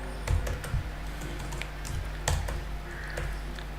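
Fingers tap a computer keyboard while code is entered, producing close, sparse clicks in uneven short bursts over a low steady hum, with no speech.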